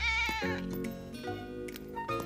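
A cartoon cat meowing, several drawn-out tonal meows in quick succession over a sustained musical background, clear and up front.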